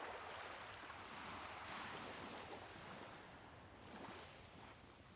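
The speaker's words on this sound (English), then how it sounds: "The hush of waves curling and rolling over the sand" Ocean waves roll and hiss over a sandy beach in a steady, continuous wash with a breezy edge, swelling gently a couple of times and carrying on alone without any voices.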